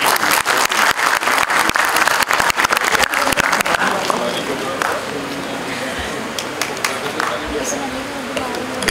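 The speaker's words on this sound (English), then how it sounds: "Request to everyone to kindly give a huge round of applause for sir." Applause breaks out at a mediation center inauguration ceremony, loud and dense at first, then fading as voices carry on beneath it.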